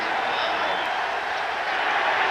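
A stadium crowd cheers at a 1990 Giants versus Patriots football game, a steady, dense roar of voices and applause filling the whole stretch at constant loudness.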